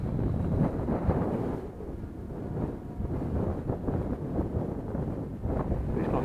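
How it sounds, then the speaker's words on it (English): Steady, gusty wind buffets the microphone with a continuous low rumble through the whole stretch, at a flying field during a fun-fly outing. "that wind's kind of blowing around a little bit"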